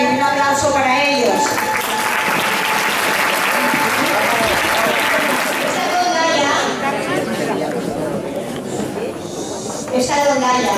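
Loud crowd applause at a Christmas meal, clapping for a rondalla string group as they gather at the stage, steady and dense throughout with voices chattering over it and someone speaking briefly near the start and end.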